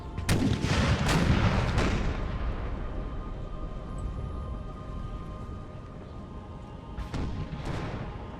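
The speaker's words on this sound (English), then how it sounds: "This one unit here has 7 cannons firing at it." Cannon artillery fire from the Napoleon Total War video game, several heavy booms close together early on, then a sustained rumbling barrage with two more sharp blasts near the end.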